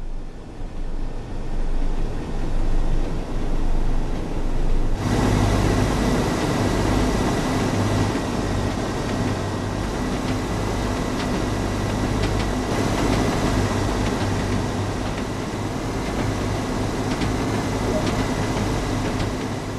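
Class 101 diesel mechanical multiple unit with geared transmission, running in Train Sim World 2: steady droning engine and rolling rumble that steps up to a louder, fuller roar a few seconds in, then holds constant, with no talk.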